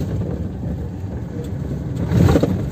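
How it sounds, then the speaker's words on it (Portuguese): A convoy of semi-trailer trucks rolls along the Transamazônica highway between Uruará and Placas, giving a steady low engine and tyre rumble that swells briefly louder near the end. "Frota de carreta ali"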